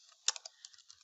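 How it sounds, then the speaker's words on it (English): Quick light key clicks on a computer keyboard, a short burst of several taps with one sharper keystroke, close and quiet. "And then I am typing"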